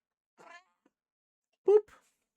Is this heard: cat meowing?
yes